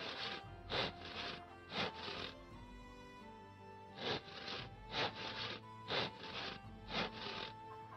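A character in the medieval survival game Life is Feudal saws wood into billets, heard as rhythmic bursts of rasping strokes in groups of about three, repeating steadily and up close.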